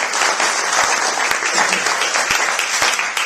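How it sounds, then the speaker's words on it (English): Wedding guests applaud the bridesmaids during a best man's speech, a steady, dense round of clapping that fills the room and continues without a break for several seconds. "A round of applause,"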